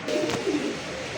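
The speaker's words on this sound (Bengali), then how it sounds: "এত সুন্দর সুন্দর কবুতর" Pigeons at a pigeon farm give soft, low cooing calls close by, a couple of short throaty phrases over a quiet background.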